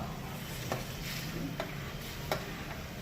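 A masher working boiled pav bhaji vegetables in a pan, quiet soft squelching with three sharp taps against the metal spaced about a second apart under a faint sizzle.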